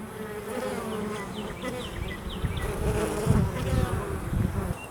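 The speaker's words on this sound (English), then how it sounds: "There are also guard bees here ready to do battle with any wasps, ants, or bees" Dense, steady buzzing of many honey bees up close at stacked wooden box hives, a constant droning hum with individual bees whizzing past.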